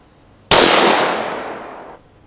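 A massive 4 bore rifle is fired at a bank vault, a single sharp, very loud blast that booms and then decays over about a second and a half outdoors.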